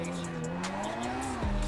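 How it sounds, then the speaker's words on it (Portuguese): In GTA 5, a Krieger supercar whips into a handbrake spin. A steady engine drone carries a rising tire squeal, which then drops sharply as the car snaps around, all close and continuous. "Vou meter um cavalo de pau aqui"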